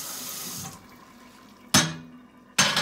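Tap water runs into a sink while stove drip pans from an electric coil range are washed with a soapy sponge; the steady flow quiets, then gushes again in two sharp bursts.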